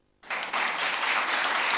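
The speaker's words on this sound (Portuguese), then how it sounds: "Aplauda o Senhor Jesus" A church congregation breaks into sudden applause after a short silence, a dense wash of clapping that holds steady to the end.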